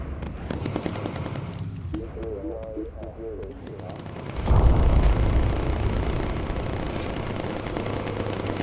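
Gunfire from a crew's turrets aimed at enemy bombers in the aerial combat game Bomber Crew: a dense, continuous crackle of rapid shots that grows louder midway and keeps going under engine rumble, with no talk over it.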